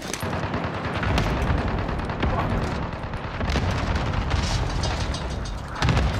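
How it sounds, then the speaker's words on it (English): Heavy continuous booms and blasts from an allied cluster strike in a first-person shooter game, dense and loud throughout with rumbling low end, a voice briefly audible beneath. "Allied cluster strike inbound."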